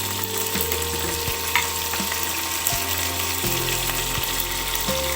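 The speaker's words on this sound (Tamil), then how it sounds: "இப்போ காய்கறியெல்லாம் சேர்த்துக்கலாம்." Vegetables such as broad beans, carrot, pumpkin, taro and capsicum go into a pan of fried onions for bisi bela bath, with a steady sizzle and a few soft stirring knocks, and no voices.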